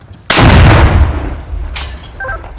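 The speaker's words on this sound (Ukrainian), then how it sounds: "Постріл." A single loud, deep boom of a 120 mm mortar firing nearby, followed by a long rumbling decay and a fainter second report.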